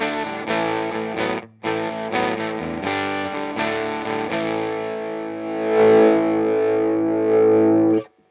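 An MC Systems NKM Dynamic Drive guitar pedal runs a sustained, harmonically rich guitar signal through a fuzz-like sputtering drive, held chords ringing for about eight seconds with one brief cut near the start, loud and alone.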